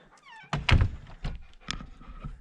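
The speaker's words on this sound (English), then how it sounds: "Time to close the door" Van door slammed shut at a forest fire lookout on Greenstone Mountain: a heavy, close thunk with a rattle, followed by a few lighter knocks and clatters from the vehicle body, with no speech.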